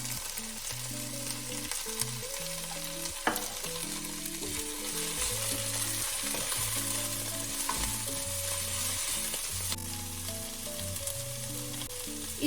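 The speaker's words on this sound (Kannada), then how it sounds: "ಇವಾಗ ನಾನು ಕೊತ್ತಂಬರಿ ಸೊಪ್ಪು ಪುದೀನ ಹಾಕ್ಕೊತಾ ಇದ್ದೀನಿ. ಅದು ಸುಮ್ಮನೆ ಒಂದು 30 ಸೆಕೆಂಡ್ಸ್ ಫ್ರೈ ಆಗೋ ತನಕ ಬಿಟ್ಟು" Coriander leaves and mint fry in a pan with a loud, continuous sizzle and occasional stirring, heard up close. Steady music plays underneath.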